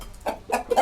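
A rooster in a bird coop gives three short, close clucks in quick succession, fairly loud over a quiet background.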